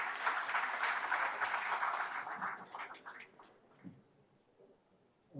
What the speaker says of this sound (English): A round of applause for them as they get.